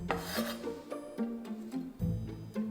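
A knife cuts through tightly rolled, stacked tortillas, giving a series of short rasping, rubbing strokes close by, quiet and without talk.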